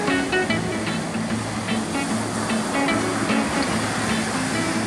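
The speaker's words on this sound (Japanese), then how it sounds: "海には波は残ってますね。" Ocean surf breaking steadily at a home surf point on a cold morning with a faint offshore breeze, a continuous loud wash of waves with no voices.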